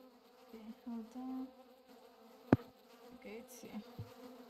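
Mosquitoes in the video game Don't Starve Together give off a thin, persistent insect buzz that wavers in and out. A sharp click cuts in partway through, with no talk.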